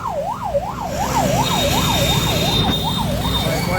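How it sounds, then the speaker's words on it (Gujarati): An ambulance siren wails in a steady up-and-down yelp, loud and close, over the rumble of stop-and-go road traffic and engines. "અત્યારમાં ભાઈ ટ્રાફિકમાં એમ્બ્યુલન્સ હલવાની છે."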